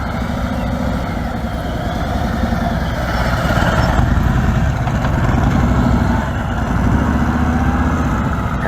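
A police motorcycle rumbles steadily through a low-speed training course of cones, its engine loud and near, with a continuous throbbing idle-like drone that swells slightly mid-way, and no voices over it.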